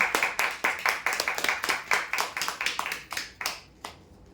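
Slow, sparse clapping from a small audience during a lucky-draw prize announcement, a dozen or so distinct claps in an uneven rhythm that thins out and stops toward the end.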